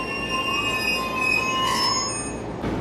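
A Tokaido Line bullet train slows gradually at Toyohashi Station, producing a steady rolling rumble with sustained high, tonal wheel and brake squeal that swells in the middle and eases off, close by and alone without voices.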